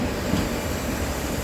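Kosi Superfast Express (18526, Purnia Court to Hatia) passing on the adjacent track, a steady loud rumble of wheels and rail noise filling the whole stretch with no pauses.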